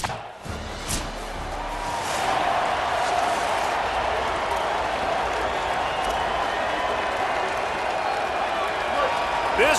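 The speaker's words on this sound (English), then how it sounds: "This crowd bringing the energy and noise early" A stadium crowd roars in College Football 27 during a USC vs. Michigan game, a dense, steady wall of cheering that swells after a thump and holds loud and continuous throughout.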